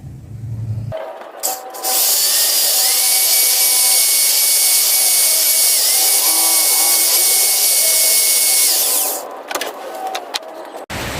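An electric drill lapping an engine valve with fine grinding compound and oil in a Yamaha Vixion cylinder head runs loud and steady for several seconds with a high whirring grind, starting and stopping abruptly, close up.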